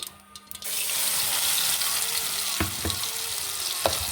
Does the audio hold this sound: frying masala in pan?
yes